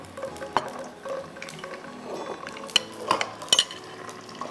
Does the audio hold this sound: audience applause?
no